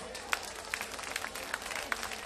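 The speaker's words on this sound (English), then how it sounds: "Clap your fucking hands together like this." A concert crowd at a live band show claps hands together in a steady rhythmic beat, a roomy, fairly distant sound with regular sharper accents.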